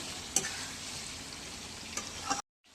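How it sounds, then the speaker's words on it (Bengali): Meat stir-fried in hot oil with garam masala in a home kitchen, giving a steady close sizzle with a few sharp stirring clicks before cutting off abruptly. "তেলের মধ্যে ভালো করে ভাজা মতো কষিয়ে নিচ্ছি"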